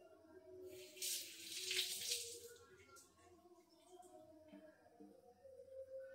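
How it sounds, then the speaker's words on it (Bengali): Running tap water pours over cauliflower florets being washed in a kitchen sink, a steady splashing rush that swells and eases, with faint voices underneath. "তার আগে ফুলকপিগুলোকে ভালো মতো ধুয়ে নেবে।"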